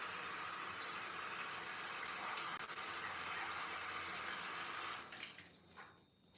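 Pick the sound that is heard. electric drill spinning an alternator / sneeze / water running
water running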